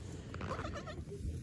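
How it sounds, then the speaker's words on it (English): Goats bleat in a short, wavering cry at moderate distance over a low outdoor background rumble. "See, they're nice goats, right?"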